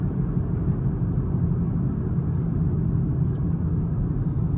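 A car drives through city traffic, its engine and road noise forming a steady low rumble as it slows toward a red light during a driving lesson in Edmonton, Alberta.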